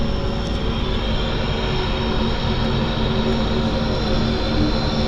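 Steady, loud drone of an Antonov airplane's engine running nearby, constant and unbroken throughout with no voices.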